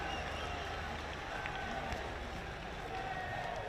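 A schools rugby crowd at St. Peter's College versus St. Joseph's College roars steadily after a conversion kick, with sustained cheering and applause and commentary running over it.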